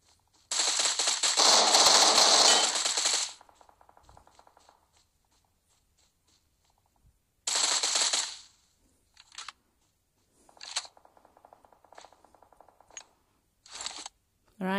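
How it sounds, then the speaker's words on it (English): Rapid automatic gunfire in the PUBG Mobile battle royale game: a long sustained burst, then shorter bursts and scattered single shots with pauses between, loud and up close, no talk. "but now I'm shooting good again"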